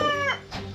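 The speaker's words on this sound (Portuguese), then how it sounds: "O canto do galo avisava sobre a chegada da polícia." A rooster crows in Copacabana, in Rio de Janeiro's south zone, a single short call that rises and falls, heard close and alone with no talking.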